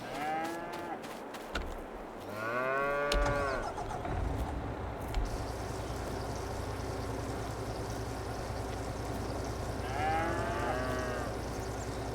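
Calves in Farming Simulator 22 moo in a few drawn-out, fairly close calls spaced apart, over a low engine-like hum that runs throughout.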